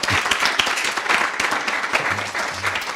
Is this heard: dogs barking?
no